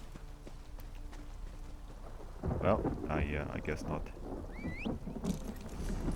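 Horse hooves clip-clop in Elder Scrolls Online, fairly soft, alongside rain and rumbling thunder. Someone talks briefly over the sounds.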